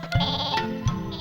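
A cartoon sheep bleats in a short, loud, wavering cry, two quick bleats close together, clear and near with no talk over them.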